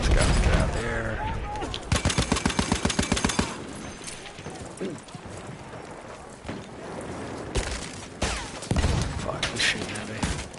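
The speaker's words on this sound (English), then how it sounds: "who's shooting at me?" Rapid bursts of automatic gunfire in a video game come in several loud, rattling volleys separated by quieter stretches of ambient noise and scattered shots.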